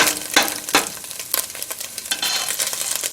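Collard greens fry and sizzle in garlic-infused olive oil, a close, bright crackle punctuated by several sharp bursts as the greens are stirred in the pan.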